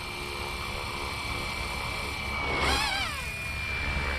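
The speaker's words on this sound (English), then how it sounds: "GPS helicopter. No hands. No hands." A Fly Wing FW450 RC GPS helicopter flies nearby, a steady rotor and motor whine holding throughout, swelling briefly louder around the middle as it passes closer.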